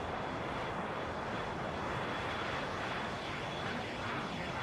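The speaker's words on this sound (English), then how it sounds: "you can give a flyover effect by pitching the noise" Synthesized airplane flyover made by pitching noise in the Aetherizer synth, a loud, dense, continuous roar of broadband noise with a thin steady high whine, holding level without breaks.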